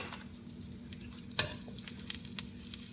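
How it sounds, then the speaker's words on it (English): Onions sizzle steadily in a hot pan for lechon paksiw, a constant crackling hiss broken by a few sharp spatters and stirring clicks, close and alone without any voice. "Then put our onions. Let's give it a minute."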